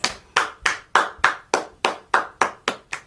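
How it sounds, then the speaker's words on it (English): Rhythmic hand clapping, about ten evenly spaced sharp claps in a steady beat over three seconds, close and moderately loud with no talk, from a reaction to Morissette Amon singing Run To You. "A round of applause"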